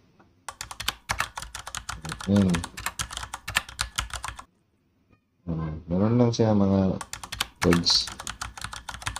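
A typewriter sound effect clatters in fast, dense bursts of sharp key strikes, stopping briefly before resuming, while someone talks over parts of it and through the pause.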